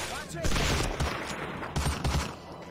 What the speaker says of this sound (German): Das MG hat einfach weiter gefeuert.